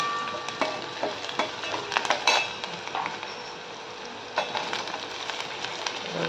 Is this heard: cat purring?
no